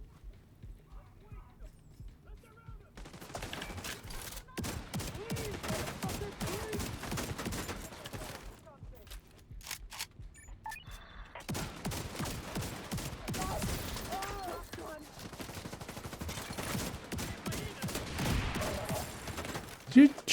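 Bursts of gunfire aimed at the player in a video game crackle in uneven volleys alongside rhythmic clopping, while someone talks over much of it.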